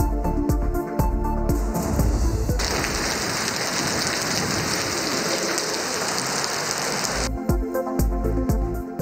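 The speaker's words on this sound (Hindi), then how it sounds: "इस्लामाबाद में मूसलाधार बारिश, पौधे निखर गए।" Heavy monsoon downpour in Islamabad, a dense steady hiss of rain pouring on surfaces, loud and continuous with no talk over it.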